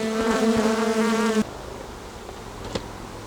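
Honeybees buzz around an open hive during a beekeeping inspection, a close, steady droning hum that cuts off abruptly partway through and leaves quieter background buzzing.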